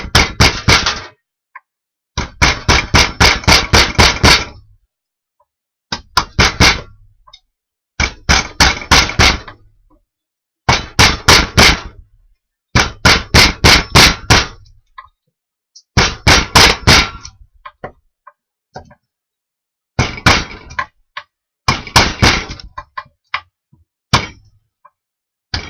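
A chisel is hammered to shape a metal scraping tool: sharp ringing metallic strikes come in rapid bursts of several blows, separated by short silent pauses, loud and close.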